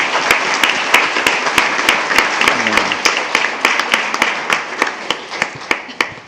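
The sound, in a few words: applause at a board meeting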